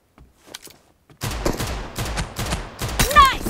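Gunfire in the mobile battle-royale game PUBG Mobile: a sudden loud burst of rapid shots starting partway in and continuing to the end, after a quieter stretch with faint sounds, with a bright whizzing streak near the close.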